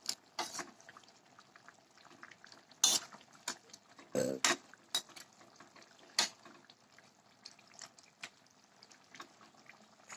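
Curry with garam masala simmers in a pot, giving scattered soft bubbling pops and sputters at an uneven rhythm, close and fairly quiet, with no talk over them.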